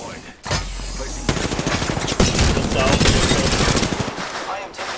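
Rapid automatic gunfire rattles in the Apex Legends video game, loud and dense bursts running almost continuously, with a player's voice talking over the shooting.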